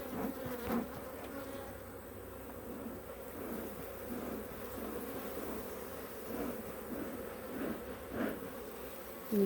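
Honey bees buzz around an open, strong beehive during an inspection, a steady close drone of many insects with individual bees swelling louder as they pass near.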